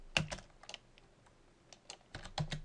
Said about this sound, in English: type in shutdown